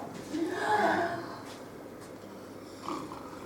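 A sleeping character snores during a reading of Molière's play Le Mariage forcé, one long rasping snore swelling and fading, followed by a softer breath, close and moderately loud.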